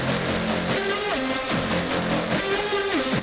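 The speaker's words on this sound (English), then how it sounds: "So the synth, without anything, sounds like this." Dry synthesizer line with no lower-octave effect added: a repeating melodic phrase with gliding pitch drops in a steady rhythm over a dense backing wash, moderately quiet, with no talking.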